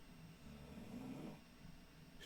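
A pit bull dog snores loudly close by, one long rumbling snore swelling and fading over a couple of seconds against a low indoor background.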